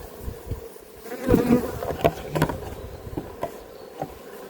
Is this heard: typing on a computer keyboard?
no